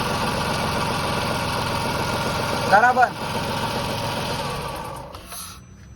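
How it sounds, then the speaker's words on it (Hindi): A Tata Revotron three-cylinder engine idles steadily and close, with a faulty AC compressor adding noise. A brief louder rattle comes in the middle, a short spoken word falls near the end, and the sound fades at the close. "सिर्फ AC कंप्रेसर इसका ख़राब है जो आवाज़ कर रहा है।"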